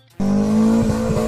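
Mahindra Thar off-roading in dry mud, its engine roaring loudly and steadily with tyres spinning and scrabbling against the dry ground, starting abruptly after a brief quiet moment.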